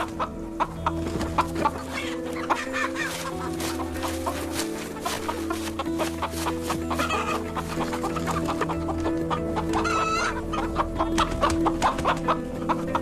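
A flock of chickens clucks busily and without pause, many overlapping short clucks and scratchy calls at moderate loudness, some closer and some farther off.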